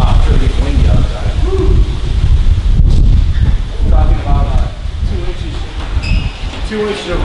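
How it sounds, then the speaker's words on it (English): Strong wind rushing and buffeting a microphone outdoors, a steady loud roar with gusty surges throughout and brief rustling over it. "Wow, it's really windy outside."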